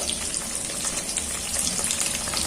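Olives frying in mustard oil in a wok give off a steady, close sizzle with a fine crackle throughout, and no voices are heard.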